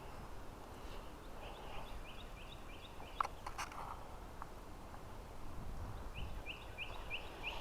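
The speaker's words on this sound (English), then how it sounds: "All I hear is birds" Birds call in a quiet cemetery, with repeated short chirping phrases heard at a distance over a low background hiss and a few faint knocks.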